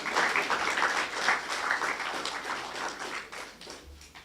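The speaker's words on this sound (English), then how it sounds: "And let's give both of them another round of applause because that was excellent." An audience at a university lecture theatre naming ceremony gives a steady, full round of applause, dense clapping that holds evenly and gradually fades toward the close.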